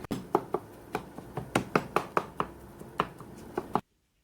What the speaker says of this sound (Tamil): 5 மினிட்ஸ் வரையும் லோ ஃப்ளேமில் வச்சு கொத்தி விடலாம்